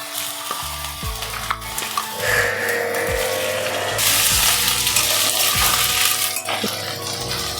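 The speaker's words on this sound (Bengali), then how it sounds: "পেঁয়াজটা ভাজা হয়ে গেছে, আমি একটুখানি রসুন দিয়ে দিচ্ছি।" A little garlic dropped into hot oil with onions already browning, making a close crackling sizzle with scraping stirs and utensil knocks; the frying swells louder and brighter partway through.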